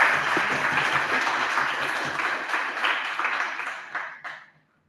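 An audience applauds after a presentation, steady clapping from many hands that holds for several seconds, then thins out and fades to silence.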